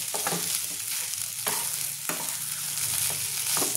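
Grated, mashed potato for an aloo paratha filling is stirred in a hot pan, giving a soft continuous sizzle with repeated scraping strokes every half second or so.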